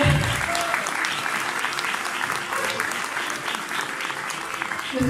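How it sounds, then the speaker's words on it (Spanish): Sustained applause from a crowd of Catholic supporters for a guest being introduced in Argentina, dense and even throughout, with voices mixed into the clapping. "Más fuerte, el aplauso, un poquito más"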